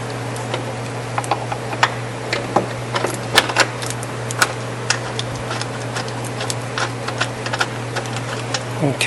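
Bolts being tightened on the radiator fan shroud of a 1995 Toyota T100 make irregular, sharp ratchet-like clicks over a steady low hum.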